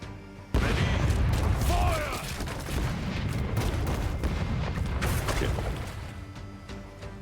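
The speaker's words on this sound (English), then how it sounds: "Let's hear those cannons roar." Ship cannons fire in the naval combat video game Rogue Waters, a sudden loud volley of booming blasts followed by rolling explosions and battle noise over several seconds.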